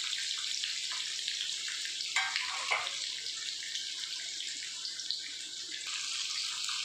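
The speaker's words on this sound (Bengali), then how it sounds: "হাই ফ্লেমে পেঁয়াজগুলোকে আমি একটু 1-2 মিনিটের জন্য একটু নেড়ে নেবো" Onions sizzling in a pan over a high flame, a steady broadband hiss with a few brief louder crackles, close and continuous with no talk.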